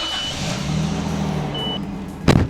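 A car pulling away and driving off, its low engine hum steady and moderately loud, with a short higher-pitched beep partway through and a sharp louder burst of noise near the end.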